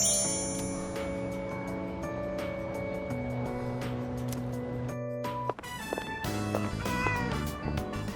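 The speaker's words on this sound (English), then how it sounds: "Was that a cat's meow?" A cat meows in the game Persona 3 Reload, set over steady sustained background music with tonal notes, audible near the middle and end, no talking.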